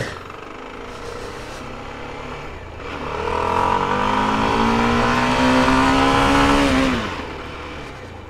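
A CF Moto 300SR motorcycle on a brake test, its engine revving and rising in pitch as it accelerates hard, then dropping off sharply under braking, loud and close with no talk.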